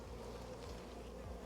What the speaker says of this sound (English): Tons of funny fuzzy bees all over here that have just hatched.